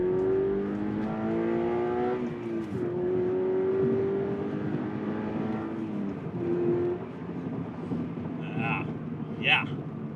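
A Subaru BRZ tS engine with an Infinity Designs carbon intake drones steadily up close, its pitch rising and dipping as the revs change, with a few brief sharper sounds near the end.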